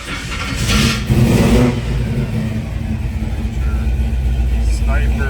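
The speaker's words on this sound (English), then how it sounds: "I wanted to do that before I started up because she's a salty sounding engine" A 1971 Chevrolet Chevelle SS engine with Sniper EFI runs with a low, steady rumble that swells into a revving surge early on, then settles into a rough idle while someone talks nearby.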